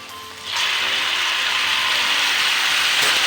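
Mushrooms tipped into a pan of cooking cauliflower, setting off a sudden loud, steady hiss that holds until the end, close up and without voices.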